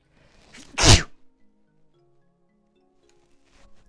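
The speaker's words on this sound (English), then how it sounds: "I might get a sneeze." A single loud, close sneeze bursts out sharply in an otherwise quiet room, followed by faint rustling.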